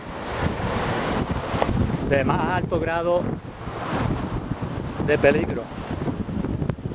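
Deep-water ocean surf with strong currents on the north coast at Levittown beach, a steady roar of waves mixed with wind buffeting the microphone while someone speaks over it.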